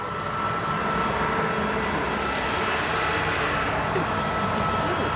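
An Atlas Air Boeing 747-400 cargo jet at O'Hare Airport's South Cargo Bay, its engines a steady broad roar with a constant hum from start to end, and a voice talks faintly beneath it.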